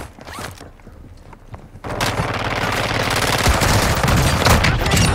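Gunfire in Call of Duty Warzone 2: after a quieter stretch of scattered clicks and movement, a sustained loud roar of rapid automatic fire and noise takes over and continues to the end.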